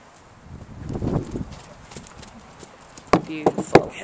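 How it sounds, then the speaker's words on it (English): A Mustang stallion at a ranch makes a few soft snorting, vocal noises alongside quiet hoof clops, with sharper short bursts near the end over a calm background. "Not at all fazed by the fact that the stallion's making any of these noises."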